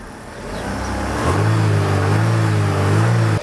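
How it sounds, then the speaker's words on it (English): A car engine revs up and holds a loud, steady drone, close by, with no talking. "Next, we'll get in the car and rev the engine"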